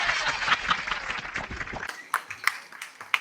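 A group of people claps for about two seconds, then it thins to a few scattered, sharp single claps.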